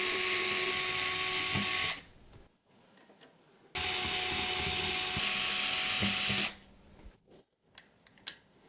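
A power screwdriver whines in two sustained bursts as it backs out the screws holding the stock brackets on a motherboard's CPU cooler mount, with quiet handling noises in between and afterward.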